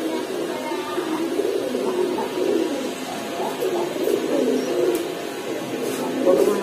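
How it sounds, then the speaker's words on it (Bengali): Red and white Bombay pigeons at a pigeon market coo in a continuous low murmuring chorus, close by, with steady crowd noise and faint voices underneath. "ভাই এখানে একজোড়া লাল বোম্বাই কবুতর আছে"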